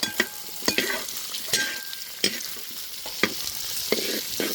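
Diced onion petals sautéing in butter for a chilli creamy cheese chicken dish sizzle softly and steadily, with a series of sharp scraping stirs against the pan at close range.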